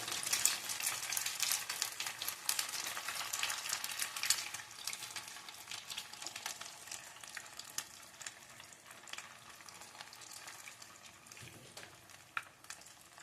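Leftover upma shaped into pakoda balls deep-frying in hot groundnut oil in a pan, a steady close hiss and crackle that is loudest at first and gradually settles, with no talking.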